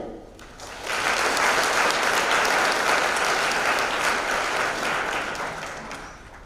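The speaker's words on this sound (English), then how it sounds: "Another round of applause for our academic achievement awards." A large audience at a senior high school awards ceremony breaks into dense, sustained applause that rises quickly and holds steady, then slowly starts to fade.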